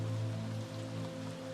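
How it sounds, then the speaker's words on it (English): Soft, steady rain patters continuously beneath a sustained, droning musical tone, with no talking. "the sound of the rain filling the space between them"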